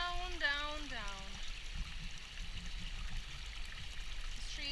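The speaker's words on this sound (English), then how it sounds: "we did find the origin of this waterfall" Rushing stream water from the source of a waterfall in a forested hiking area makes a constant, moderately loud wash; a bird's whistled calls ring out over it at the start.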